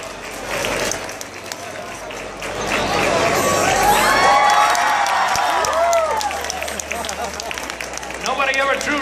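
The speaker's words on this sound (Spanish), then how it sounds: "Un aplauso. ¡Aplauso!" Crowd at a cosplay parade at the Yauco Fandom Expo 2015 breaking into applause and cheering, with whoops and shouts swelling over the clapping, lively and sustained, voices mingling throughout.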